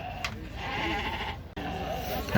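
Sheep bleat amid the steady crowd noise of a livestock market at Uzynagash near Almaty, with ewes on sale; voices and bustle continue throughout, and the animal calls mix into the din rather than standing out alone.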